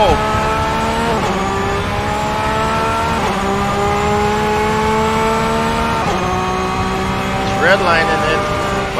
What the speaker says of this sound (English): Oh man, listen to that engine go.